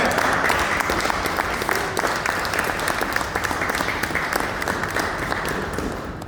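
A church congregation applauds in steady, dense clapping that holds at a loud level throughout and tapers slightly toward the end.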